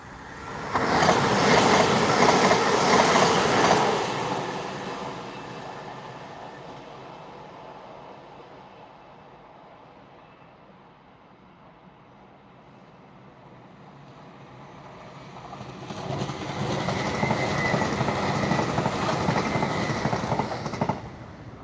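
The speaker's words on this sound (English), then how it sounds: "And there goes a class 802." A Class 802 train sweeps past at close range, loud rumbling and clattering building fast, easing off mid-pass to a softer roll, then surging again as the rear cars go by; no talk.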